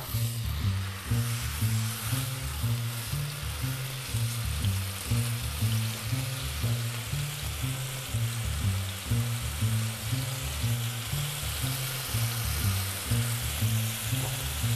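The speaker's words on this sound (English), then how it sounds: "There's something just so great about cooking a steak is the smell that comes off it, or the noise." Steak sears in a hot pan with a continuous close sizzle and a steady, fast crackling pulse that runs without a break for about fifteen seconds, no talking.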